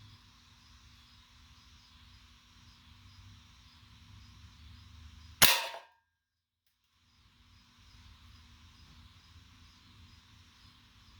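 A single sharp shot from a Umarex Forge .177 air rifle firing a Crosman Premier pellet, a sudden loud crack near the middle that dies off quickly, followed by brief quiet against faint outdoor background noise.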